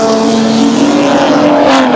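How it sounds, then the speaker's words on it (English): A Jaguar race car with big horsepower accelerates up the straight in a 1985 Amscar touring car race at Amaroo, pulling away from an Alfa; a loud, close, sustained engine roar climbing in pitch with no other sound. "now the big horsepower of the Jag runs away from the Alpha up the straight"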